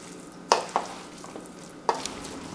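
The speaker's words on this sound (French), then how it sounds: "Pour la dernière fois, je vais mélanger." A spoon scrapes and tosses through a quinoa salad in a bowl, giving a few sharp clinks and scrapes in two short bursts with quiet gaps between.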